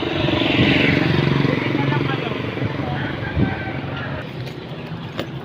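A tricycle motorcycle taxi engine in the Philippines runs with a steady rumbling drone and some clatter nearby, fading slightly toward the end, while people talk over it.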